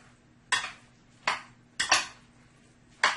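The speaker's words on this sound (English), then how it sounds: "you're going to mix all of this together" A spoon knocks against a bowl four or five times at irregular intervals, short sharp clinks with near silence between them, while roasted eggplant, salt and other choka ingredients are mixed.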